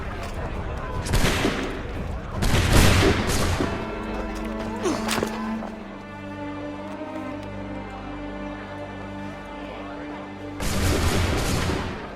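Volley of musket gunfire in Assassin's Creed 3, with loud bursts of massed shots at the start and again near the end and a lingering ringing tone between them.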